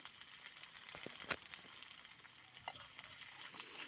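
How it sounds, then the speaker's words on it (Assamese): Chopped onions and panch phoron fry in a hot wok, a steady bright sizzle with occasional soft stirring taps, close but fairly quiet, with no talk. "আৰু অকণমান সময় লৰাই মানে ৰঙচুৱা হ'লৈকে ভাজিম"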